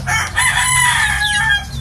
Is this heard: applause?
no